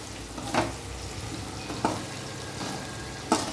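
Chicken gravy stirred in a frying pan: a steady sizzle with three distinct spoon scrapes spaced about a second apart, close and moderately loud, no voices.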